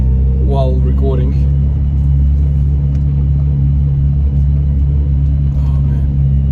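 Steady low interior rumble of a car driving on the road, a constant droning hum throughout, with a person speaking briefly near the start.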